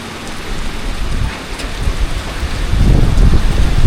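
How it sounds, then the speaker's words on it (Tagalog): Steady, heavy rain pours down with a dense hiss, growing louder and deeper toward the end as the downpour intensifies. "ngayon po ay malakas pa ang ulan sa labas"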